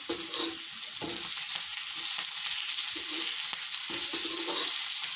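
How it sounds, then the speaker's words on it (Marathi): Crumbled stale chapati mixture fries in a pan and is stirred, giving a continuous bright sizzle with soft scraping strokes of the spoon, and no talk. "हळूहळू सर्व हलवून घ्यायचं आहे।"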